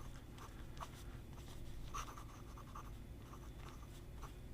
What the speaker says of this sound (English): steel number 6 medium nib that writes spectacularly